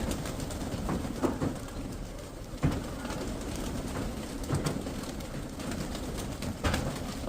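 Domestic pigeons cooing and flapping overhead outdoors at dusk, low soft coos repeating steadily with a few louder wingbeat bursts against a constant background hum.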